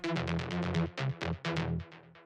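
An analog synth layer built from two detuned saw waves pulses in a run of buzzy, rhythmic notes with a throbbing low end, close and continuous, with no voices.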